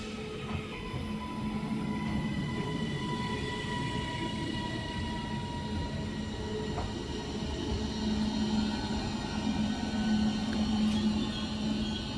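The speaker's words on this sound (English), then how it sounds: "now arriving in is going to be the 1749 Northern service" Northern Class 331 electric train pulling into Shipley station, a steady rolling rumble with wheel clatter and faint tonal whine, sustained and fairly close.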